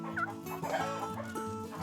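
Wyandotte, New Hampshire and Rhode Island Red chickens clucking close by on a farm, several short overlapping clucks and murmurs in quick succession.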